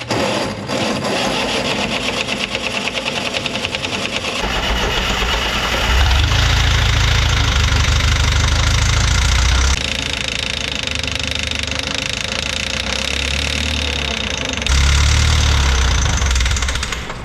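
A diesel mini truck engine runs rough on starting fluid, loud and close, chugging and knocking unevenly as its pitch and strength shift, with heavy low-end surges in the middle and again toward the end.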